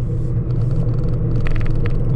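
A Suzuki Ignis engine rumbles steadily from inside the cabin as the small car drives along, a low continuous drone with faint road noise and no speech.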